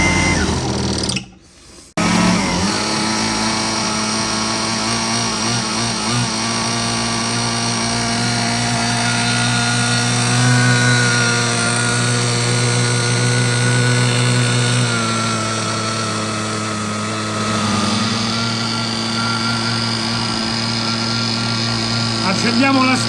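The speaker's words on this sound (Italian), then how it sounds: "è sempre un'emozione accendere un nuovo motore" A newly installed nitro engine on a ready-to-run model car, started with a starter, fires up and runs continuously, a loud steady buzzing drone with a brief cut near the start, then holding a high idle throughout with slight shifts in pitch.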